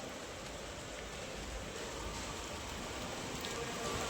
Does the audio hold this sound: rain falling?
yes